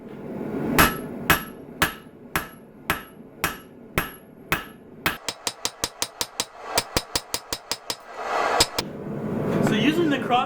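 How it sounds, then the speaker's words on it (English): A cross peen hammer strikes a hot Damascus steel kitchen knife blade during hand forging: loud, close, ringing blows, first spaced about half a second apart, then a quicker even run of hits, then a few scattered strikes. "So using the cross peen hammer to add width to these kitchen knives"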